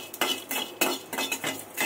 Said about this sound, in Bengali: যেগুলো আমার মশলা, বিরিয়ানির মশলাগুলো, সেগুলো একদম হালকা করে একটু করে ভেজে নেবো